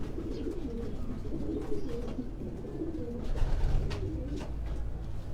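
Racing pigeons in a loft in Quetta cooing softly, low repeated burbling calls close by over a faint background murmur.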